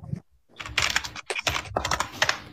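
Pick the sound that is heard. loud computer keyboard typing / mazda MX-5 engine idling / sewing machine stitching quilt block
loud computer keyboard typing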